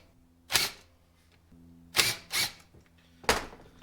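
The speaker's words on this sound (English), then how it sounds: "Take your float bowl, take the bowl off the bottom" The float bowl comes off a Honda Goldwing GL1500 motorcycle carburetor with three or four short, sharp metallic clacks and scrapes, close by and separated by quiet pauses.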